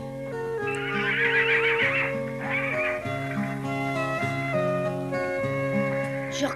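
A horse neighs and whinnies over a steady musical score, a bright wavering call rising clearly above the music near the start, in a French Tom Sawyer animated episode.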